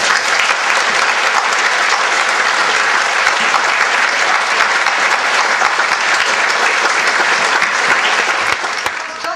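A large audience gives loud, sustained applause as finalist student teams in a Transit of Venus competition come onto a stage; the dense clapping stays even and full before dipping slightly at the very end.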